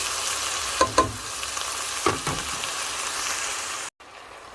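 Minced pork with carrots, chayote and potatoes fries in sesame oil, a close, steady sizzle broken by a few stirring scrapes and a brief pause near the end.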